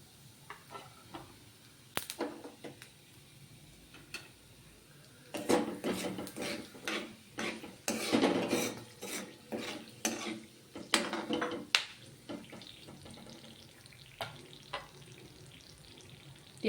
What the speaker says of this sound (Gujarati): તો ચાલો હવે આપણે શાકનો વઘાર કરીશું.